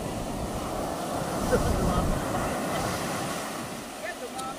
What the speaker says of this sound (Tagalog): Guys, talagang alon.